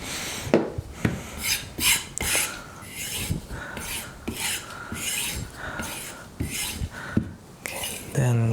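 Kitchen knife drawn across a Japanese whetstone to take off a burr, with repeated gritty rasping strokes in a steady back-and-forth rhythm, close and clear.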